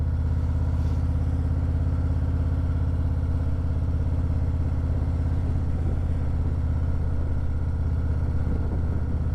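An adventure motorcycle climbing a mountain road on Whiteface Mountain in the Adirondacks gives a steady, loud engine drone with an even low throb that holds for the whole stretch, with no speech.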